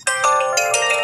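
HTC One ringtone called Allborn, a bright synthesized melodic tone with several quick chiming notes in succession, loud and clear with no talking.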